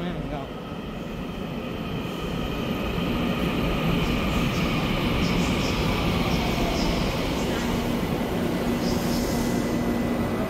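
Silver-green EMU900 ten-car electric multiple unit express train at a Taiwanese station, producing a loud continuous rumble of wheels and motors with faint squeals, and people talking over it.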